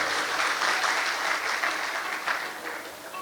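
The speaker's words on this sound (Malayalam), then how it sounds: "സ്പോൺസേഴ്സിനും ഒരു കയ്യടി നിർബന്ധമായിട്ടും കൊടുക്കേണ്ടതാണ്" Audience applause for an event's sponsors during the Yadein 25 programme, a steady, dense clapping crowd filling the whole stretch at even loudness with no talk over it.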